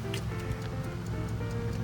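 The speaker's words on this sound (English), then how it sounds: "So, actually a clock that works. Very nice. And it's this is an original Ampere clock." An original Ampere clock ticks close by in a short, steady run of regular ticks over a faint low hum.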